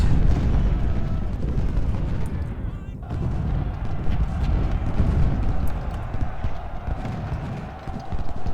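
Musket volleys and battlefield fire in Ultimate General: Civil War, at the Battle of Shiloh, make a dense, continuous rumble of overlapping shots with a brief lull partway through, and a voice talks over it.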